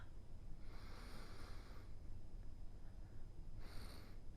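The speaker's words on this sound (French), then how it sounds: "Sentez-le à pleine narine." Deep, slow inhalations through the nose while smelling a raisin, two breathy sniffs close to the mic, with a steady background hum in between.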